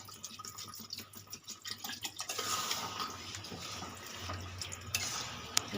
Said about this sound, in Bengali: এবার আমি পরিমাণ মতন জল দেব